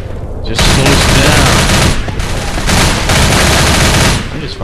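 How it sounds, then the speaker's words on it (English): Sustained automatic gunfire from Left 4 Dead on Xbox 360, loud and dense bursts of rapid shots running almost continuously with brief gaps, close and overwhelming. "I just fucking shoot."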